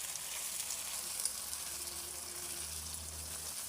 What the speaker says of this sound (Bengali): কারণ মাংস আর ডিমটা খুব সুন্দর করে কষাতে হবে।